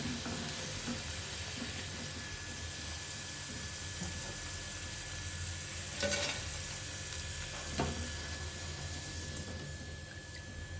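Ivy gourd pieces for dondakaya 65 fry steadily in hot oil, a continuous broadband sizzle with occasional stirring scrapes, close and even throughout with no talking.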